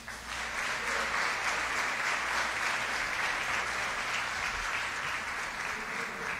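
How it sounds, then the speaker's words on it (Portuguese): A church congregation applauds continuously, a dense and steady clapping that holds at the same level throughout with no speech over it. "Aplauda Jesus"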